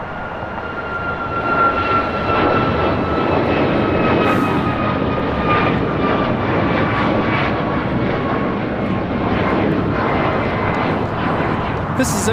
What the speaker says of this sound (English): This is American Airlines 2284 taking off to Miami on a MAX 8